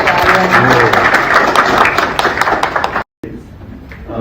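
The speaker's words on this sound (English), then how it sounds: "So a big round of applause for Aryana." Dense applause from a festival crowd, steady clapping that cuts off abruptly near the end, then resumes more faintly.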